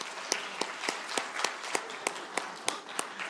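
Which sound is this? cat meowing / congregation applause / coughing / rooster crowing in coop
congregation applause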